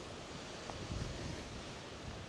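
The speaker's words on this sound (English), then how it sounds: "Sorry about the wind. I'm trying to use my body to block it." Strong wind buffets the microphone outdoors in Iceland, a continuous loud roaring rumble with slight gusts and no clear pauses.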